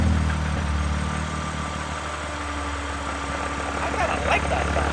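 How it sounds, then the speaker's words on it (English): A BMW G87 M2 with an aftermarket twin-disc clutch idles steadily, heard from outside the car, with a low engine drone and faint light clutch rattle running throughout at moderate level. "Clutch rattle, normally something you get once you upgrade to an aftermarket clutch."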